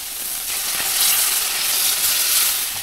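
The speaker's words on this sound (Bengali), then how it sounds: "এরপরে এর মধ্যে গরম জলটা দেবো।" Loud, continuous hissing sizzle rises as hot water is poured into a pan of reduced yogurt gravy for stuffed teasel gourd (doi kakrol). The steamy crackle builds steadily and carries on without talk.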